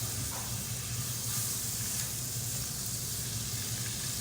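A tablespoon of butter sizzles in a hot pan before chicken goes in, a soft, steady hiss and crackle heard close and alone.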